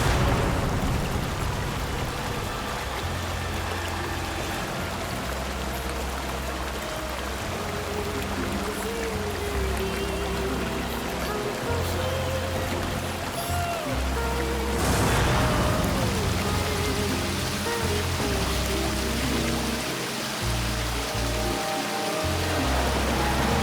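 Waterfalls in a jungle near Jumma Patti, a continuous rushing wash of falling water with a steady broadband roar and low rumbling undertones, heard at close range for the whole stretch.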